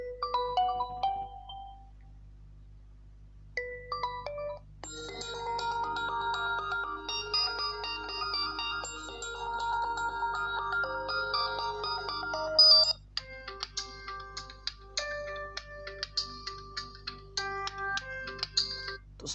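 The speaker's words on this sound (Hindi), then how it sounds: "यहाँ पर Realme 5i के रिंगटोन्स में आ जाते हैं और कुछ रिंगटोन्स को यहाँ से चला के देख लेते हैं।" Several short electronic ringtone melodies play one after another from a Realme 5i smartphone speaker, bright and tinkling, separated by brief pauses.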